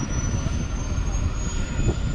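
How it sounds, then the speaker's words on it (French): A large rescue helicopter roars steadily at a distance, a constant dense engine and rotor rumble with a thin high whine over it, heard alone. "Big hélico quoi."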